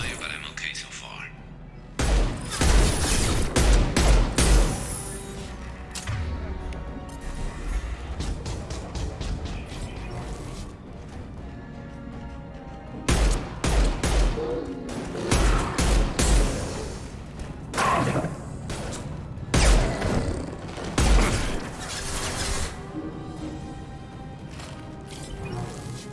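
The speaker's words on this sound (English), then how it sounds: "Taking heavy fire." Heavy gunfire in Mass Effect Legendary Edition comes in loud, repeated bursts of crashing blasts and thuds, broken by quieter gaps, with people talking throughout.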